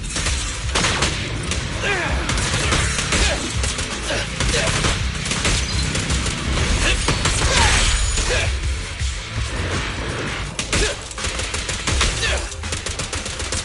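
Sustained gunfire in Zenless Zone Zero, rapid, dense bursts of shots with crashes and impacts layered throughout, loud and continuous, with some voice or combat sounds mixed in.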